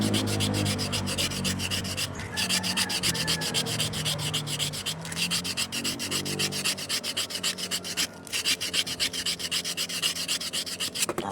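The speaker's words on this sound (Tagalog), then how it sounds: "lilihain natin para matanggal yung kalawang" Rapid, rhythmic scratchy rubbing of sandpaper against a rusty metal shaft, close up and continuous, with brief pauses between strokes.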